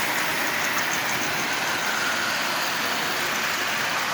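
A Marx dummy 490 toy train locomotive, fitted with a red headlight, runs around the rail with a steady, continuous whirring rumble. The sound is close and even throughout, with no talk.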